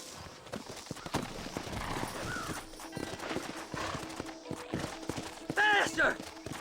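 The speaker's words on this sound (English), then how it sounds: "Horses are over here!" Horses in the Red Dead Redemption video game clop steadily along at a trot, with a loud whinny near the end, while voices talk over the hoofbeats.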